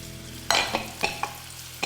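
Kohlrabi pieces fry in oil in a pan, giving a faint sizzle broken by a few sharp stirring clinks and scrapes spaced through the moment.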